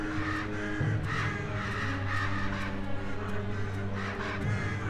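Hostile birds cawing in the video game Selma and the Wisp: repeated harsh crow-like caws over a steady, droning game soundtrack, loud and continuous, with no talking.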